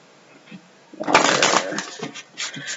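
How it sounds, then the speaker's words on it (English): Tarot cards being shuffled by hand in a quick riffling burst, preceded and followed by soft handling noises and a few faint sounds. "Do a couple shuffles."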